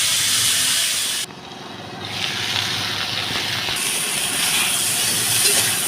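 Pointed gourd and potato fry in hot oil in a pan, giving a strong, continuous sizzling hiss that briefly dips and then swells back up.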